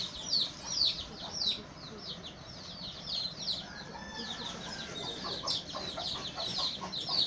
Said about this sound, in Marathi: ही सगळी आमच्या घरातलीच कोंबडी आहेत.